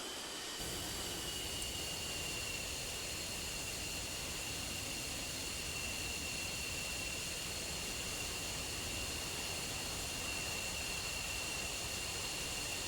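F-16 jets on a runway, a steady loud jet-engine roar with a high whine held throughout, continuous and unchanging, with no talk over it.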